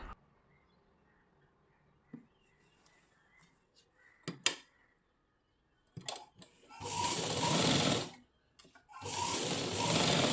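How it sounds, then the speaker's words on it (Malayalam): A sewing machine stitches a folded, pinned edge of slippery lining cloth for trousers, running in two loud sustained bursts after a few faint clicks and handling noises. "മടക്കിയതിന് ശേഷം പിൻ ചെയ്ത് വെച്ചതിന് ശേഷം സ്റ്റിച്ച് ചെയ്യുക"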